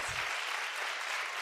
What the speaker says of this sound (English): Clap if you know about Fartgate.